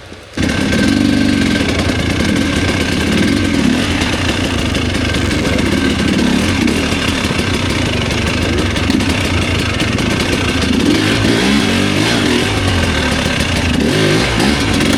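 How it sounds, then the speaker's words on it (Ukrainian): A KOVI 330 Pro two-stroke motorcycle on a test ride, its engine droning loud and steady the whole time with rough, buzzing revs and wind rush, and no talking. "у нас завершився тест-драйв цього мотоцикла"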